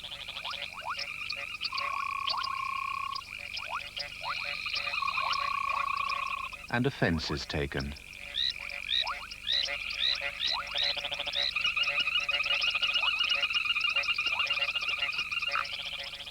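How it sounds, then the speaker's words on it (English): Dense chorus of great grey tree frogs croaking continuously, with repeated rhythmic calls overlapping, briefly interrupted by a burst of low rumbling, then the chorus resumes loudly. "The great grey tree frogs,"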